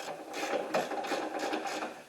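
A hand ratchet fitted with a 10 mm socket drives bolts into a Harbor Freight Central Forge swivel vise, giving a close series of rapid clicking pawl ratchets in short, fairly even strokes, with no talking.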